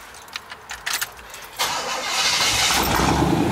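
A car engine cranks briefly, then catches and starts, settling into a loud, steady running roar that fills the rest of the moment, with no talk over it.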